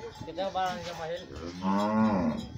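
A cow moos twice on a farm while cattle are handled for vaccination; the two drawn-out, close calls are loud and clear, with no talk over them.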